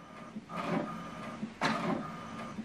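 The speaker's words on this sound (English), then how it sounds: "So what it's doing now is printing the alignment." An HP printer prints an alignment page, giving close, moderately loud mechanical whirring and feed sounds in two surging bursts with steady motor hum between, no talking.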